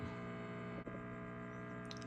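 A steady electrical hum from a noisy reverb recovery tube in a Fender '63 Vibroverb reissue tube amplifier, a buzzy harmonic drone, constant and unchanging, broken by one tiny click partway through.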